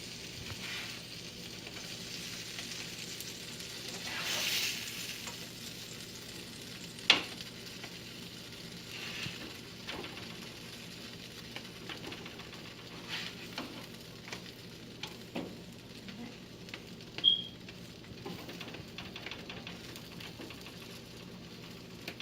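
Blueberry buckwheat walnut pancakes cook in a pan with a faint, steady low sizzle throughout and an occasional soft tick or scrape, quiet and without talk.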